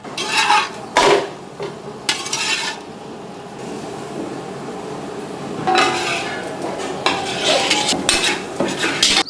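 Chicken pieces fried in a pan and stirred with a metal spoon, giving bursts of scraping and clinking against the pan between quieter stretches of faint frying, with no talking.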